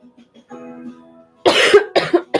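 A person coughs three times in quick succession, loud and close, after a stretch of quiet faint murmuring at a weaving loom.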